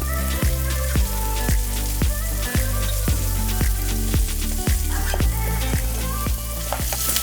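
Burger patty topped with a slice of cheddar sizzling steadily in a pan, a dense continuous frying hiss with repeated soft thuds and crackles, close and alone.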